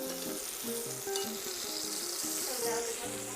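Eggplant and zucchini slices frying in a pan, a steady close sizzle that continues without a break and with faint stirring sounds mixed in.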